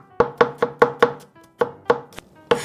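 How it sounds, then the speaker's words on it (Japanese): Kitchen knife mincing a clove of garlic on a cutting board, with crisp evenly spaced chops in quick succession, about nine close, sharp knocks with a brief pause midway. "ニンニクはですね、みじん切りにしていきましょう"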